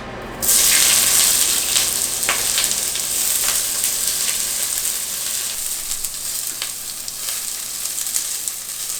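Cabbage sizzles steadily in an oiled pan for a vegetable stir fry, a bright continuous frying hiss with occasional crackles, close and loud, with no voices.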